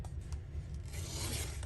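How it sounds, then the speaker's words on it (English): Scissors cut paper to make an envelope, a single quiet rasping slice heard up close and alone. "We're going to go ahead and we're going to cut right like that."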